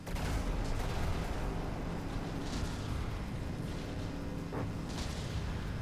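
Cannon fire and explosions in a From the Depths naval battle between warships, a dense, continuous rumble of booms with sharper blasts around the middle and near the end, no speech.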